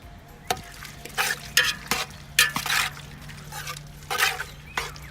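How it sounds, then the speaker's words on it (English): Garlic being stirred in a cooking pot in an outdoor kitchen preparing food for a crowd, with irregular scraping strokes and soft clinks over a low sizzle. "And then give a stir a bit."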